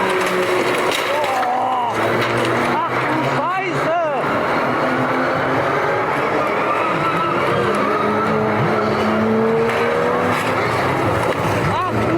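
Race car spinning out during a motorsport crash, its back end sliding round with tires skidding and engine whine rising and falling, loud and close under continuous commentator talk.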